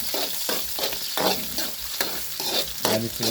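Eggs frying in a pan with rhythmic stirring and scraping strokes over a steady sizzle, close and fairly loud, no voices.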